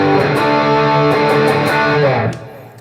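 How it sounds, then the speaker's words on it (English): A Pinter Instruments Model SB1 electric guitar with even heavier distortion plays dense, buzzing notes with a steady roar for a couple of seconds before the sound drops away and decays. "And if you go to even higher gain sounds"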